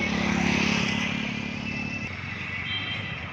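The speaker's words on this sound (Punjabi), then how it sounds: "ਦੇਖੋ ਮੋਟਰਸਾਈਕਲ ਵਾਲਾ ਵਿਚਾਰਾ ਪਿੱਛੇ ਆ" A motorcycle rides along a potholed main road patched with mill ash, its engine droning steadily and fairly close, with rattling road noise and a tone that drops partway through.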